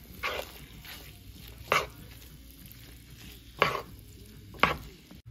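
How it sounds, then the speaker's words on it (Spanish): A few separated knife chops on a board as vegetables are chopped for tacos, quiet and close, irregularly spaced over a low background hum. "vamos a seguir picando la verdurita que van a llevar nuestros"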